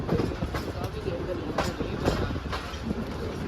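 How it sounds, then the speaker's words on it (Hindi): Passenger train rolling slowly into a platform at Narowal Junction, a steady low rumble with faint clickety-clack of wheels on rail joints, heard close and continuous with some voices underneath. "और हमारी ट्रेन दूसरे प्लेटफॉर्म पर लग रही है जी।"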